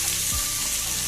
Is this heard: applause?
no